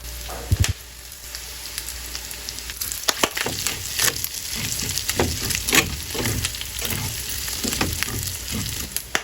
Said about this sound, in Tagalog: Sasabay na natin ng sili sa pagprito para lalong lumabas yung anghang